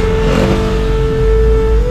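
A 200cc vehicle engine revs steadily while riding in Thailand, a loud close drone with a firm tonal hum and no talk.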